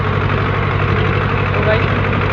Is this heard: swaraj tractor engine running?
yes